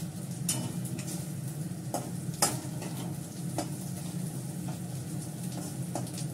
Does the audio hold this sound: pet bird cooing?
no